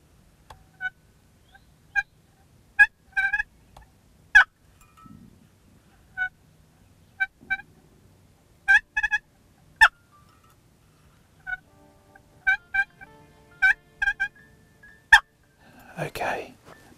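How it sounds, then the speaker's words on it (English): A wild Osceola turkey gobbles repeatedly in short, rattling bursts, some faint and distant, against quiet outdoor surroundings. "There's a bird gobbling."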